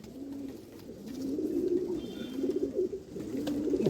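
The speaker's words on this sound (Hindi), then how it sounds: "ये तो कसूरी कबूतर है" Kasuri pigeons coo in repeated soft, rolling phrases, several in a row at a moderate, close level, with the cooing rising slightly in intensity toward the end and no speech.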